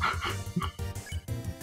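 Short yapping bark from Doggo, the knife-wielding dog ninja enemy in the video game Undertale, heard as a quick burst of game sound effects over a backing tune.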